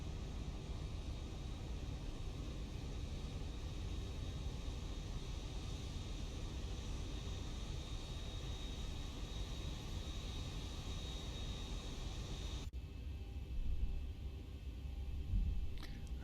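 A Pan Am Clipper airliner in X-Plane 12 roars steadily on its takeoff run from Frankfurt, a constant engine drone with a whine, then a sudden drop in tone near the end.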